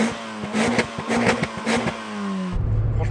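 Peugeot 206 RC with a naturally aspirated 2-litre engine, its exhaust revving in bursts with rising and falling pitch, loud and close, before settling into a low steady drone.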